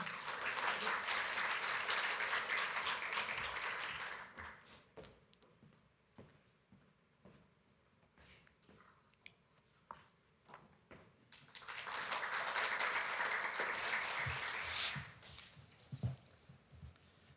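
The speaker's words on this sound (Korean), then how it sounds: "큰 박수 부탁드립니다" An audience at a Korea University changemakers forum applauds as a vice president is welcomed to the stage, a strong burst of clapping, a quiet gap with scattered taps and footsteps, then a second swell of applause.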